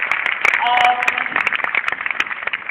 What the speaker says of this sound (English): A huge round of applause for coming here.